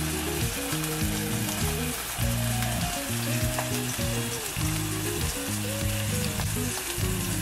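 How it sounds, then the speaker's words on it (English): Pork chops fry in hot oil with butter, producing a loud, continuous close-up sizzle that stays even throughout, with a tune playing underneath. "Looks like our oil is hot. Gonna put our pork chops in."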